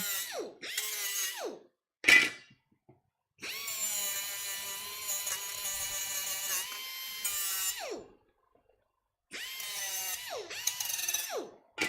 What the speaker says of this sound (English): all of these are pre-sold and they are all powder coated finish. Still go to the trouble of burnishing them.